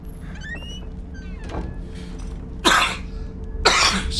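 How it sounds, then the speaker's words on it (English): A person gives two harsh, loud coughs close by, one near the middle and one at the end, over a quiet hum of game sound. "I cough all night now."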